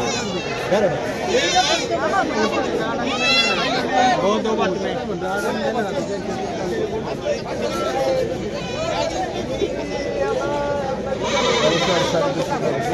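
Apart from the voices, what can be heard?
goats bleating at goat market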